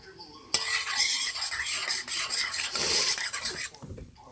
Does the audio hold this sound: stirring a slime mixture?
yes